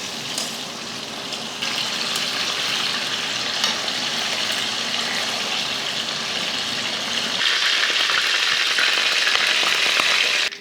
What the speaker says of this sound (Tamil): எண்ணெயில் இது போல் நல்லா பார்த்தீங்கன்னா 2 பக்கம் வேக வச்சு வறுத்து எடுத்தாச்சு.